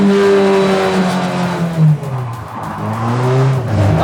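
Car being thrown sideways into a handbrake drift, a loud engine revving and wavering in pitch with tyres scrubbing as it slides, close and continuous.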